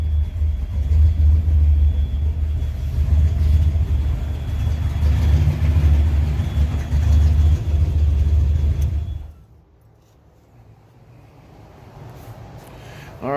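A junkyard-built turbocharged Ford Mustang foxbody with a 3-inch exhaust idles loudly and close, a deep rumbling drone that holds steady and then cuts off abruptly, leaving quiet background.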